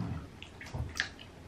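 Water in a bathtub sloshes and gurgles softly with a few light splashes and drips, close by and fairly quiet, with no talking.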